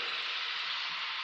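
A dense, continuous hiss of scurrying like a swarm of mutant mole rats in a tunnel, a steady sizzling cartoon effect held at an even, fairly faint level with no talking.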